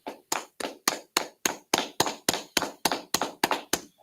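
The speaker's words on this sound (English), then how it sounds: "clap it up, clap it up, clap it up" Steady, evenly spaced claps, about fourteen sharp hand claps at a quick regular beat, close and crisp with no voices.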